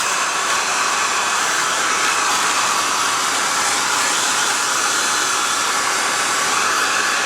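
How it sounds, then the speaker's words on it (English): A hair dryer blows on rabbit fur during taxidermy mounting, giving a steady, loud, close airy whoosh without a break. "wet it down and blow dry it, re-dry it a little"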